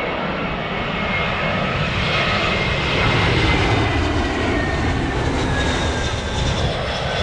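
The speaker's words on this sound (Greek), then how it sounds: "Από εδώ, από όπου βλέπεις τα αεροπλάνα που έρχονται για να προσγειωθούν." A British Airways airliner on landing approach at Heathrow on a windy day drones steadily and loudly throughout, a broad continuous engine roar that rises slightly mid-way as the plane passes overhead.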